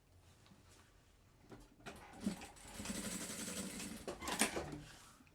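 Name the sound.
sewing machine stitching a personalized Bible cover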